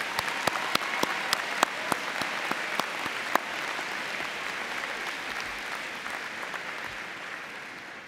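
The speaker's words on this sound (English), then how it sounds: "Class of 22, please give them a round of applause." Graduates at a university spring commencement applaud standing faculty and staff, a dense, steady wash of clapping with a few sharp individual claps early on, holding strong and fading slightly toward the end.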